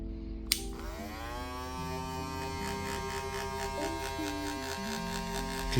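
Brand-new Wahl Vapor hair clippers run with a steady electric buzz and hum, the motor pitch drifting as it slows down and speeds up, sustained and close with no talk.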